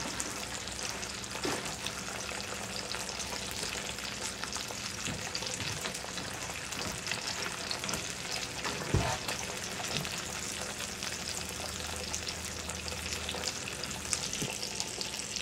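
Thick bacon frying in a pan as it is candied, a continuous close crackle and sizzle with occasional louder pops and faint stirring, no voices.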